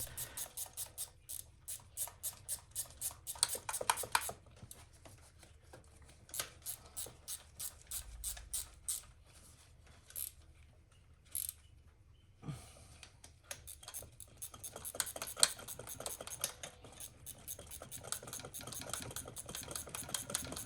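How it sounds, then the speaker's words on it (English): Ratchet tightening a 10mm bolt on a Chevrolet Silverado, rapid bursts of fine metallic clicking repeated in runs with brief pauses, close and quiet, no voices. "we're just gonna tighten it back in with a 10mm ratchet"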